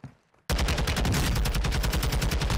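Rapid, loud automatic Fennec fire in Warzone 2 bursts in after a brief quiet moment, its evenly spaced shots hammering close up without a break until the end.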